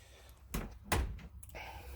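A solid sliding door in a 2016 Cherokee Wolfpack Limited 315 fifth wheel toyhauler, giving two close, firm thuds as it slides and shuts, with soft rattling afterward in a quiet interior.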